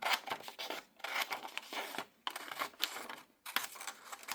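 Scissors cut long paper strips from large window envelopes, producing soft close snipping and rustling in several short runs separated by brief pauses, quiet and without talk.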